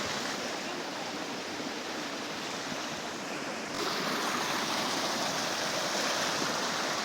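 After flooding, water pours over a dam spillway with a steady, broad rushing roar that rises a little louder partway through and carries on without a break.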